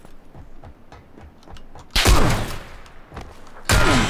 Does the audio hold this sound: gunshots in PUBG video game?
yes